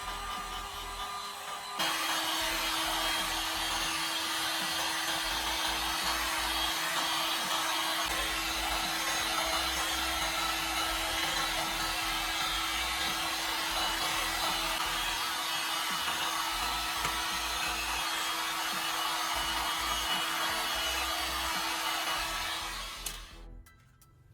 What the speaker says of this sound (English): Use a small hairdryer on a low, warm setting and move it slowly over the keypad